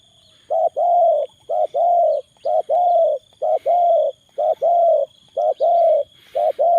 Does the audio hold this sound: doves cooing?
yes